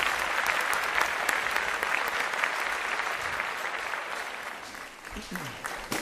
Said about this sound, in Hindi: ताली तो, ताली तो बजा दो।